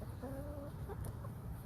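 Chickens cluck softly while foraging for bugs and seeds around a log in their run, with a couple of short, tonal calls followed by scattered quiet clucks over a steady outdoor background.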